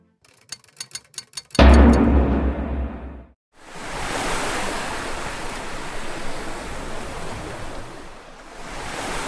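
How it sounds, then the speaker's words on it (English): Atlantic swell breaking and washing against the hull of a wooden caravel off the African coast at dawn, a loud surge of surf after a few light knocks, then a steady broad wash of water with no talking. "The ship rises and falls with the Atlantic swell."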